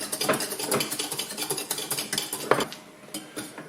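Metal whisk beating béarnaise sauce in a pan off the heat, a fast steady clatter of wire scraping and tapping against the pan, close and continuous with no talk.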